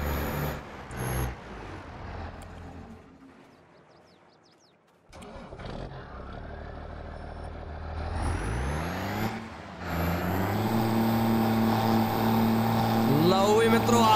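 A Swaraj 744 tractor in Farming Simulator 22 running in third gear, engine hum rising to a loud steady drone with shifting pitch, briefly dipping quieter midway before climbing again.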